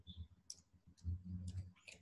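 A few quiet, irregular keyboard key clicks come as a short string of text is typed, faint and close against a low background hum, with no talk.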